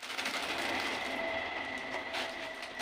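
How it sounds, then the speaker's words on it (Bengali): A train rumbles past steadily, a broad continuous roar with faint metallic whines, heard from nearby for the whole stretch. "ট্রেনের আওয়াজ হচ্ছিল ট্রেন যাচ্ছিল"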